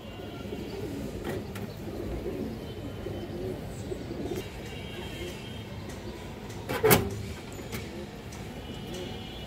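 Several pigeons coo in a low, continuous murmur throughout, with a brief sharp knock partway through; no one speaks over it.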